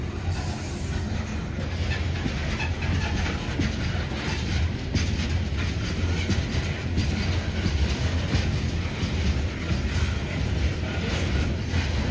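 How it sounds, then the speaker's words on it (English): A heavy loaded coal train rolls steadily past, with a constant low rumble, rattling cars and rhythmic wheel clatter throughout, no voices. "One of my favorite trains, a loaded coal train"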